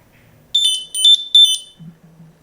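Ekster smart wallet tracker sounding its locating alert: three loud, shrill electronic chirp bursts in quick succession, each a cluster of rapid high beeps, with a faint low hum before and after.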